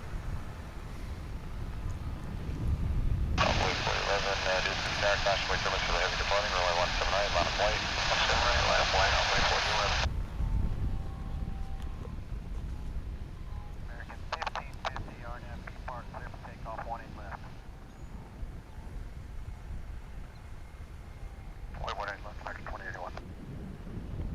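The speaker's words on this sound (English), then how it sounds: "Flight 1550, another A321 on its way to Los Angeles." An Airbus A321 airliner, flight 1550, takes off at DFW International Airport with a loud, sustained broadband jet roar lasting several seconds, followed by fainter intermittent bursts, while people talk throughout.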